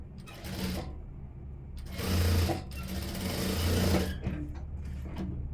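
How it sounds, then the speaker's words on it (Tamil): A sewing machine stitches a wide neckline, running in a steady close mechanical whir that swells louder for a few seconds in the middle, then eases into intermittent lighter runs. "நான் இதை தைக்கிறேன் பாருங்கள்"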